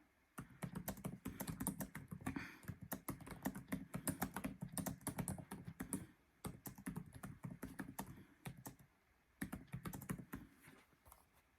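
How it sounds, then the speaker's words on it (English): Rapid, steady typing on a computer keyboard, dense bursts of clicking keystrokes close by with a couple of short pauses, no voices. "I'm just going to type it in here."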